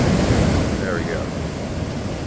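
Ocean waves wash onto a narrow beach in a steady, loud roar of surf mixed with wind noise on the microphone, with no clear voices.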